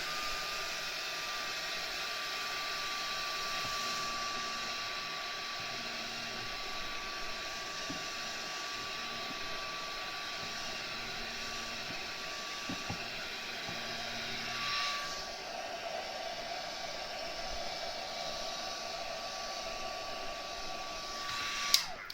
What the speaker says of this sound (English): Dry it out again.